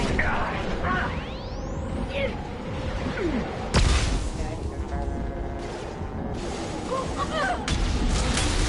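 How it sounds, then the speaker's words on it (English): A flashbang grenade bursts in the Mass Effect video game, a sudden loud bang in the middle of sci-fi whooshes, crashes and combat clatter, with a voice talking over parts of it. "Watch out, flashbang!"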